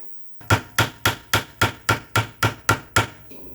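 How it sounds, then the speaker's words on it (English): Hammer blows drive a rivet into the case of an RCA Victor 26BP radio, ten sharp evenly spaced strikes in quick succession, loud and close with no talking. "So I'll mark that and put a rivet in as well."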